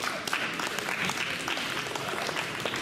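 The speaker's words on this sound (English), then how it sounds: "we can give him a round of applause" Round of applause from a crowd at a post-prom event, steady continuous clapping at moderate volume with scattered sharper claps.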